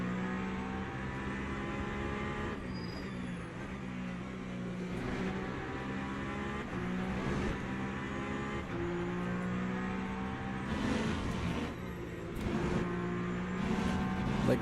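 Race car engine in the Le Mans Ultimate racing game at the Le Mans circuit, a steady, droning high-revving whine held near constant while slipstreaming, with slight pitch shifts and faint passing engine noise.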